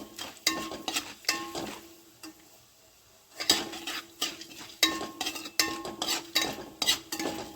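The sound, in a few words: frying chana dal and urad dal in oil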